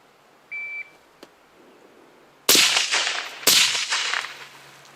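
A suppressed POF Rogue semi-auto scout rifle fires two sharp shots, each with a short decaying tail, preceded by a thin electronic shot timer beep and a small click.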